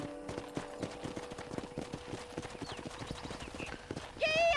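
Horse hooves clip-clopping at a steady trot in the Red Dead Redemption video game, rhythmic and close, with soft game ambience and a whistling musical tone rising at the end.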